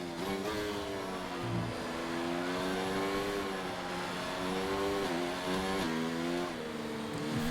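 A Formula 1 race car in the video game F1 2019 drones steadily at high revs, its engine pitch rising and dipping as the throttle eases and reapplies, loud and continuous throughout.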